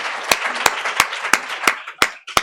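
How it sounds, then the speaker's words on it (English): Audience at a start-up pitch night in The Hague clapping for entrepreneurs: a dense, mid-loud patter of hands with several sharp, louder claps standing out at roughly regular intervals. "I'd like to start with another big round of applause"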